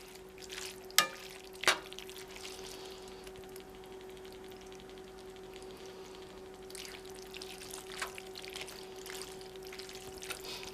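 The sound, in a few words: pouring canned tomato sauce into a cooking pot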